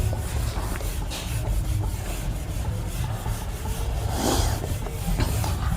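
Writing being rubbed off a classroom board during a school biology lesson: a continuous close scraping swish of erasing strokes with no voice over it.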